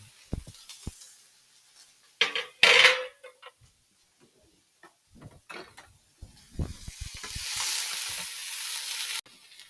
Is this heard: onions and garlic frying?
yes